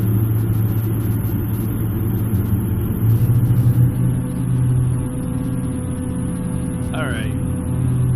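Steady propeller engine drone of a Cessna F406 twin turboprop in a flight simulator, a constant loud low hum with a brief rise in pitch partway through, under someone talking.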